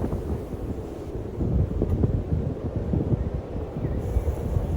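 Cold wind on the Illikkal Kallu hilltop buffets the microphone in a continuous low roar that swells and eases in gusts, with no voices heard.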